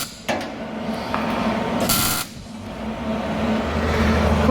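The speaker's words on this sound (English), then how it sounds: "Here comes the welder." A welder lays a patch into a car body with steady buzzing, crackling arcs in a workshop. A bright, harsh burst of roughly a third of a second stands out midway, and no one speaks.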